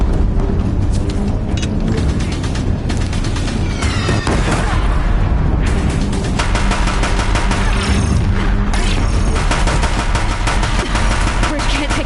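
Deathbringers open heavy fire on a bridge in a video game, dense rapid gunfire and booming blasts crowding together in a loud, unbroken battle din, with voices mixed in.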